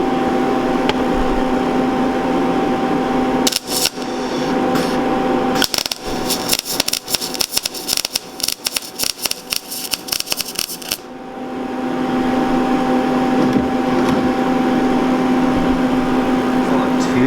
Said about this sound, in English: I guess, weld this to this.